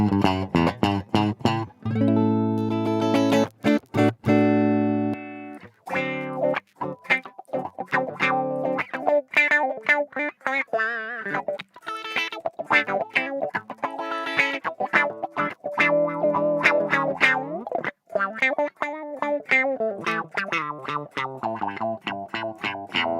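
Electric guitar played through an amp and effects pedals, a busy run of chords and quick single-note lines with processed, distorted tone, sustained and up front for over twenty seconds with no talking.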